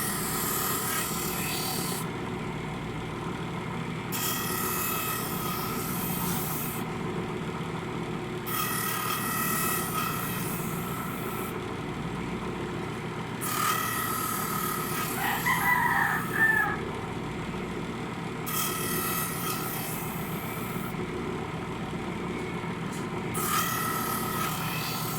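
A file rasps in repeated long strokes against a rusty steel cockfighting gaff blade (tari) being sharpened, each pass a few seconds long and separated by short pauses, with roosters crowing faintly in the background.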